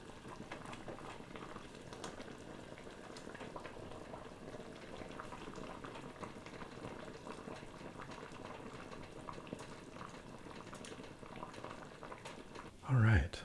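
Pot of potato leek soup at a moderate boil, steady dense bubbling that runs throughout, with a brief louder knock or clunk at the very end.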